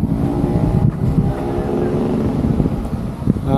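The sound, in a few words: strong outdoor wind blowing on action camera microphone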